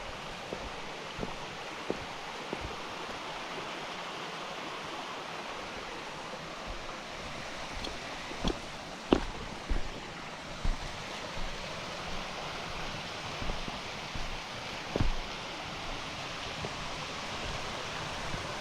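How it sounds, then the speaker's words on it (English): A waterfall on a mountain hiking trail sends a steady, full rush of falling water across the whole clip, with scattered faint knocks and rustles over the constant roar and no voices. "look at that waterfall up there"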